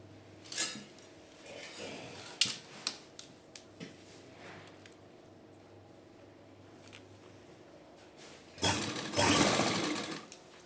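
A sewing machine stitching pearl lace onto fabric runs in short bursts with small clicks and handling taps, then a louder sustained whir near the end, close and without talk.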